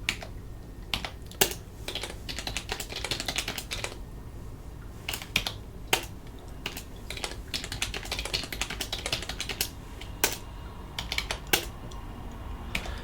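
Keys clatter on a computer keyboard in quick irregular bursts with brief pauses, close and fairly quiet, with no voices.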